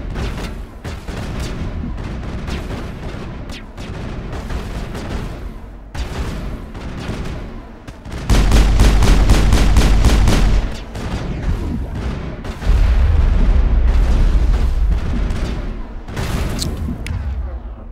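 Gunfire from the video game Mass Effect: dense bursts of shots and booming impacts throughout, with heavier sustained blasts in the middle and later stretches, loud and close.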